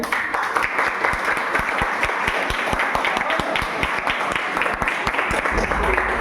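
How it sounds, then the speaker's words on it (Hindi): Steady rhythmic clapping from an audience in a talk on health benefits, loud and continuous throughout with faint voices underneath. "ताली बजाइए"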